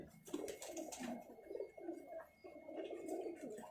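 A pigeon coos in soft, repeated throaty bursts, close and fairly quiet, with no talk over it.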